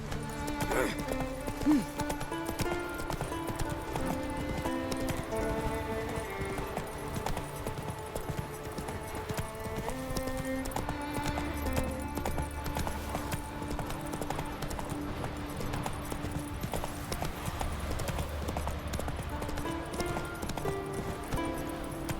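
Hoofbeats of a horse galloping in The Witcher 3: Wild Hunt, a steady clip-clop running under full game music for the whole stretch.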